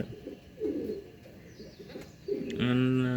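A racing homer pigeon gives low, soft cooing calls close by, several throaty coos against a steady background hum, with a voice speaking near the end.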